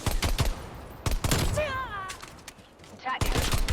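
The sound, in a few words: three-round burst gunfire in a video game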